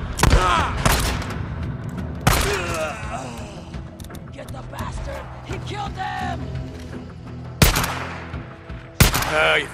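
Sniper fire in the game Days Gone during an ambush: several sharp, loud shots spaced seconds apart, ringing over gameplay noise and a voice talking.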